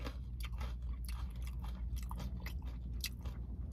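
Crunchy Peruvian food being chewed close up, a quick series of crisp bites and crunches repeating irregularly over a quiet background, with no talking.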